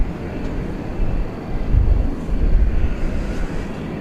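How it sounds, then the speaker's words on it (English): An American Airlines Boeing 737-800 takes off at DFW airport, a steady low roar that swells and rumbles near the middle, with wind buffeting the microphone. "Flight 2190 off to Silao in Mexico, 737-800."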